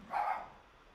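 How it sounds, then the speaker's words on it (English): A single short dog bark, fairly close, followed by quiet. "that's my neighbor's dog, by the way."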